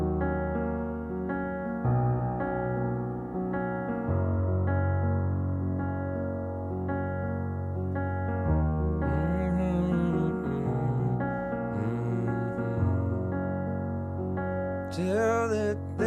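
Piano plays a pre-chorus from a song with sustained chords and left-hand bass octaves, steady and full; a faint hummed or sung voice drifts in near the end.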